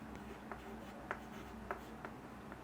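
Chalk or marker strokes on a board during a maths lesson on number systems, faint and close, with a few short scratchy marks spaced roughly half a second apart over a quiet room.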